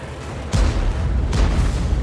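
Two heavy booming tank cannon blasts in a video game, an ELC EVEN 90 on the Prokhorovka map, about a second apart, each a sharp loud burst followed by a low rumbling tail, with no talking.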